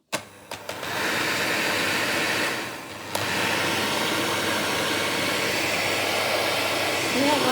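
A Tefal HT650E Power Mix Silence hand mixer running steadily after a few clicks, a continuous near whirring drone with a brief dip in the middle before resuming at full speed.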